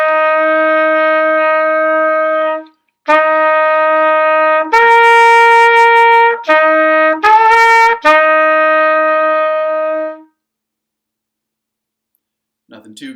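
Trumpet playing the beginner exercise no. 112, "Down the Road": a series of sustained, bright held notes separated by short breaths, loud and close, with no talk, stopping with a brief pause and a faint sound at the end.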